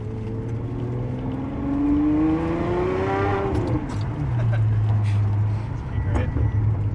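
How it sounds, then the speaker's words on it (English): A Ferrari 599 pulls away and accelerates through the gears. The engine note rises, drops at a shift, then holds a steady drone heard from inside the car, with some talk over it. "Sean's first drive, the Ferrari 599."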